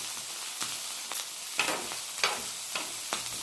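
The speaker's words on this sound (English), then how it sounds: "Move the onions around." Onions pushed around with a spatula on a hot, oily hibachi griddle beside ribeye, fried rice and zucchini, a steady sizzle broken by several sharp scraping strokes, close and moderately loud with no talking.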